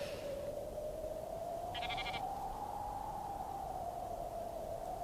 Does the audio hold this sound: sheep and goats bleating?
yes